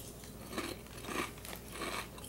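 Malt-o-meal Frosted Flakes dollar store cereal crunches in close bites and chewing, three distinct crunchy bursts in a quiet room.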